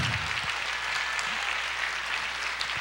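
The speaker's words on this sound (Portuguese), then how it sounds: "pode aplaudir" A church congregation applauding, a dense, loud and even wash of clapping from many hands that holds steady from start to finish.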